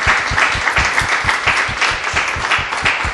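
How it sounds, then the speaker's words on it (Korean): An audience at a radio book-talk event applauds for the translators, a loud, full burst of clapping with a strong rhythmic pulse throughout. "이분들에게도 박수 한번 쳐주십시오."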